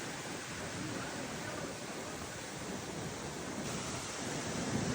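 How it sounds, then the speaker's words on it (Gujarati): Cool, strong wind blows steadily beside the swollen Tapi river, a continuous close rushing roar with no break and no voices. "કેટલો પવન ને એટલો મસ્ત ઠંડો પવન આવે છે."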